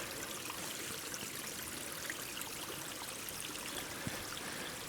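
Water runs steadily down stone steps outdoors, a continuous close rushing and trickling with no voices.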